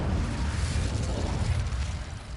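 An Incendio fire spell cast in Hogwarts Legacy, a loud, dense burst of flame and rumbling low boom that fills the moment continuously alongside game battle noise.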